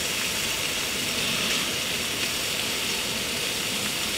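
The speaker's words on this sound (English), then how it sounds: "over the roar of jet and the sizzle of the bacon" Bacon sizzling in a pan over a roaring jet stove at a winter bushcraft camp gives a continuous dense hiss and roar, loud and unbroken, close up with no voices.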